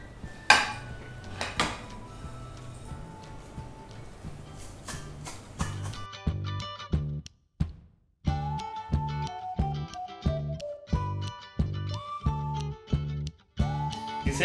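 Vermicelli roasting in a pan for a mango custard kheer, with a metal utensil repeatedly clinking and scraping against the pan in quick, irregular clanks, close and fairly loud, no talking.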